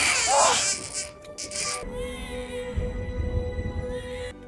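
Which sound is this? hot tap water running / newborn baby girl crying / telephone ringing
newborn baby girl crying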